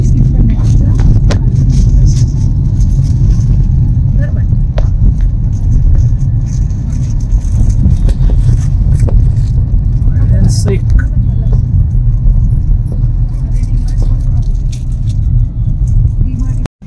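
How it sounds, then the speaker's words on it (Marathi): Traffic stands jammed on an evening Mumbai road in a loud, constant rumble of car engines heard from inside a vehicle. A few faint clicks and rattles sound over the roar, and no one talks. "आता ट्रॅफिक जाम आहे संध्याकाळच्या इथून निघेपर्यंत"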